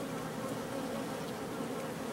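Honey bees buzz around their hives in a dense, continuous drone, a close swarm humming at an even loudness with no voices.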